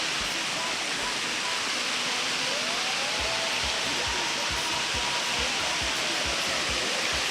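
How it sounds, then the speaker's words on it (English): Waterfall at Anse La Raye, St. Lucia, pours in a steady, dense rush of water that fills the whole clip at an even level, with a few faint low thumps beneath and no clear talk. "Although the waterfall is nice, it does not make me want to jump in like initially said."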